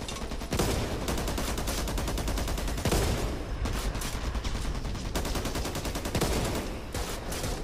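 Continuous gunfire in the Back 4 Blood co-op zombie shooter, rapid automatic bursts crackling nearly nonstop with a few heavier shots standing out, loud and close with no pauses.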